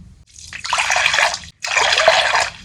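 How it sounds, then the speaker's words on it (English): Water poured over slate pencils to soak them before crushing, a close, steady splashing stream in two bursts separated by a brief pause. "Let's soak these slates in water."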